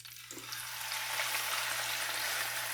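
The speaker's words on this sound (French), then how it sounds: "faire frire un peu mon poisson légèrement" Fish frying lightly in hot oil for a home-cooked attiéké dish, a steady close hiss of sizzling that swells after a brief quieter start and keeps going alone beneath a low hum.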